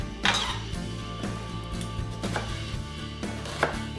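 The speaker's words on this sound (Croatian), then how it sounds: "Znači luk se reže na kockice." An onion being diced into cubes on a board for chicken tortillas: three or four spaced knife strikes over a steady low background hum, with no speech.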